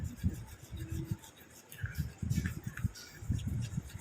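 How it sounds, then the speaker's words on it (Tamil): A creamy face pack is mixed with milk in a bowl, making soft, close, repeated scraping and rubbing strokes at a low level. "ஆட் பண்ணிட்டு இதை வந்து நல்லா மிக்ஸ் பண்ணி விட்டுக்கிறேன்."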